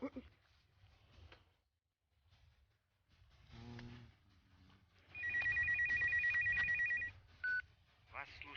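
A telephone rings in one steady electronic burst of about two seconds, followed by a short beep, amid intermittent talking and quiet indoor background.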